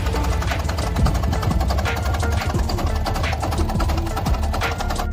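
A military diesel motorcycle engine runs close by with a rough, rapid knocking throb and heavy vibration, holding steady throughout.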